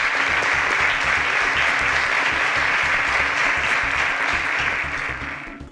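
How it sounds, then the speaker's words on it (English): A studio audience at a televised spelling competition claps for the contestants, loud, dense and continuous applause that stays full and even before tapering slightly at the very end. "A round of applause."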